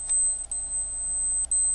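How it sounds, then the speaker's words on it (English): A Seiko Scuba Master SLD005P1 dive watch alarm beeps close up as thin, high electronic tones, one short chirp, a sustained note, then a second short chirp, with no talking. "So the alarm does work on this"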